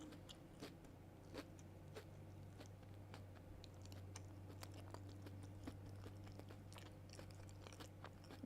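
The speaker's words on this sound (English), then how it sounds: "Sorry. I'm chewing." Close-up chewing of food, with irregular crunchy bites and mouth clicks repeating throughout over a steady low hum, with no talking.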